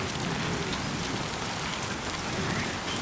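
Steady heavy rainfall in the video game Death Stranding 2, a dense continuous hiss of drops hitting surfaces, loud and close, with no voices.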